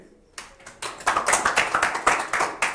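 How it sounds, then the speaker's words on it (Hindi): A small group claps for a student in a classroom, starting with a few scattered hand claps and building into steady, close, fairly loud applause with no talk over it. "इनके लिए ताली बजा दीजिए"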